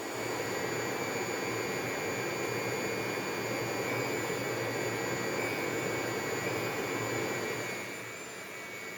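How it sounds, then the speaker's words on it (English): Steady, loud roar of forced air blasting into a knife-forging fire, a continuous broadband rush that holds level for most of the stretch and drops slightly near the end, with no talking. "Back into the fire it goes, and this time we are blasting the air to crank the temperature all the way up to a brilliant yellow heat"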